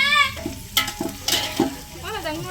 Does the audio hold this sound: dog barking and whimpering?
no